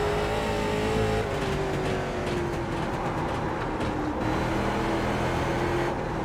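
A late model race car on Concord Speedway in the iRacing simulator picks up speed under throttle, its loud engine tone rising steadily over about six seconds with nobody talking.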